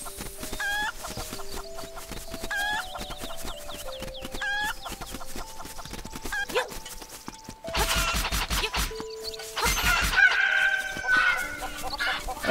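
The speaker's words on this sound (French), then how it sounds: "Oui, c'est l'attaque des poules." Angry cuccos, the chickens of Zelda: Link's Awakening, cluck and squawk in repeated bursts over game music, growing into a loud, frantic flurry of clucks and scratchy noise in the second half.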